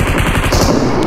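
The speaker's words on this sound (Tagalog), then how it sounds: "Binabaril ako eh." Loud, rapid automatic gunfire from a battle royale PUBG match, a dense burst of shots packed into about a second and heard up close.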